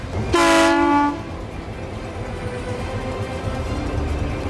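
A train horn blasts loud and close for about a second, then the low rumble of rail cars rolling away carries on, a train hauling overhauled Korean Army tanks as it departs.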